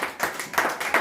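Worshippers clap in a rhythmic beat during a French-language church service, with four or five sharp, close bursts spaced about a third of a second apart and no speech.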